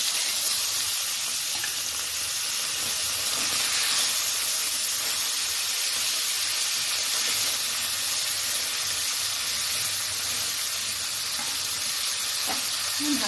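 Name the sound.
fish frying in hot oil in a wok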